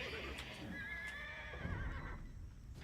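Horse whinny from the Age of Empires II video game, a single clear, high, wavering neigh lasting about a second over a low background of game sound and faint voices.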